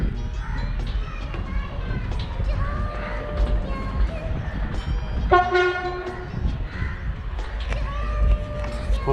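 A deep, loud ferry horn blasts for a couple of seconds midway over a constant low engine rumble and background chatter, on a Mumbai to Alibag ferry.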